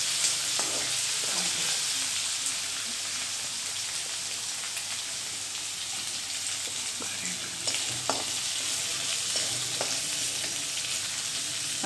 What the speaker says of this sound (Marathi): छान 1-2 मिनिटं परतत राहायचं